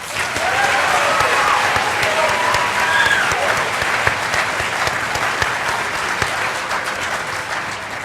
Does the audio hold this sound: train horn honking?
no